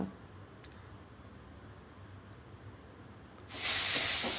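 Hot water poured into a pan of frying spiced potato and eggplant curry sets off a sudden loud sizzling hiss near the end, following a stretch of quiet low cooking noise.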